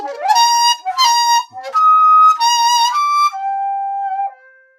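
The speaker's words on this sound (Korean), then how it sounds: "시작음에서 도달음 사이의 음을 빠르게 연주하는 글리산도 주법을" A daegeum, the Korean bamboo transverse flute, plays quick glissandi that run through the notes between a start pitch and a target pitch in several clear, breathy phrases, each ending on a held tone.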